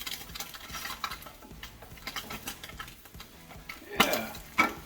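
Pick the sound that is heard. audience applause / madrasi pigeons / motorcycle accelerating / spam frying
spam frying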